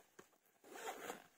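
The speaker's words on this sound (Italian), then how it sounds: "che si chiude con la zip." A zipper pulls shut along a small pocket on a crossbody bag, one continuous close rasping scrape after a brief tug, heard alone and near.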